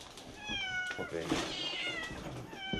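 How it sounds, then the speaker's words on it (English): Dozens of starving, emaciated cats meow repeatedly in a shed, several overlapping high cries close by, while a person speaks briefly among them. "Outside in a shed, police scrambled to save the lives of dozens of starving cats."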